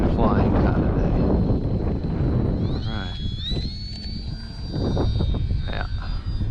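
An FT Freedom Fox V2 RC model airplane flies on a windy day in crosswind over a runway, its electric motor whining with rising and falling pitch through loud wind noise while people talk nearby.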